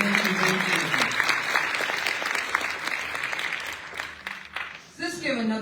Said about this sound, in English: Let's give another round of applause to all of our cultural titans in celebration of Val Gray Ward